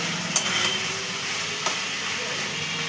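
Banana flower curry (mocha) is stir-fried in a pan, giving a steady close sizzle and hiss with faint scraping of the spoon throughout.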